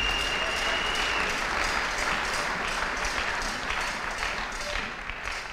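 A church congregation applauding, dense steady clapping filling the room throughout, fading slightly at the end.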